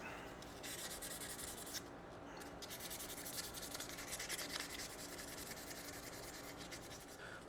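Quiet, steady rubbing of 800 grit sandpaper scratching back and forth over a small spot on a motorcycle, soft and continuous with a short lull partway through.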